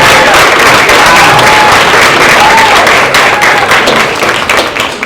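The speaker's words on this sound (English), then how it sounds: "Let's give them a round of applause." An audience claps loudly and steadily throughout, a thick wash of applause that eases slightly in the last second.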